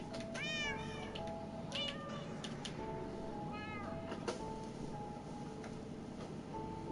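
Several kittens meow in a row, rising and falling high cries, some close and some quieter, over a low steady indoor rumble as they are settled into a new enclosure.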